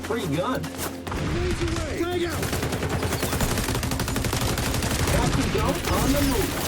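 Gunfire in the shooter game XDefiant, sustained rapid automatic bursts close and loud with a continuous mechanical rattle, and someone talking over the shooting.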